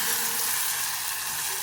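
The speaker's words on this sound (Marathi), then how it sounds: "ती एकदा मसाल्यात परतून घेऊया" Cooked moong and masoor dal stirred and sautéed in masala in a pan, a steady, close sizzle and hiss with no pause.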